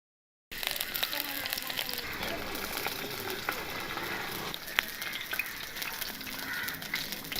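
Mustard seeds spluttering in hot oil in a pan, giving a steady close crackle with scattered sharp pops throughout, and a voice faintly present beneath.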